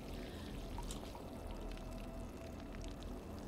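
Water poured onto houseplants, a continuous splashing trickle with soft gurgling that runs steadily throughout.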